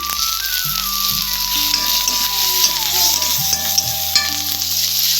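Curry leaves hit hot oil with urad dal in a pan while cooking dry fruit and nut rice, setting off a loud, continuous crackling sizzle with scattered pops and faint stirring scrapes.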